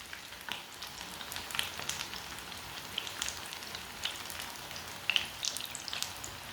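Gola kebabs fry in a shallow layer of hot oil, a steady soft crackling sizzle with scattered sharper pops, close by and fairly quiet, with no voices.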